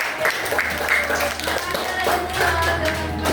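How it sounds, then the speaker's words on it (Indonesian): A fourth-grade class claps hands together for a classmate, a run of quick, uneven claps from many children close by, with voices speaking over them. "Oke, tepuk tangan dulu untuk Ara"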